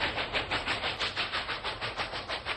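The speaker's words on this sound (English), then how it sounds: "Thankfully, the train arrives safely and slowly." A model Union Pacific Challenger locomotive rolling slowly into a station on rails, with rhythmic steam-like chuffs pulsing about five times a second, close and steady, no voices.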